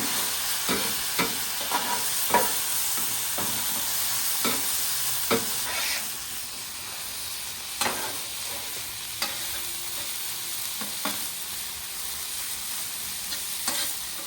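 Fried rice sizzling on a hot griddle as soy sauce goes in, a steady close frying hiss broken by repeated sharp spatula scrapes and taps against the metal surface.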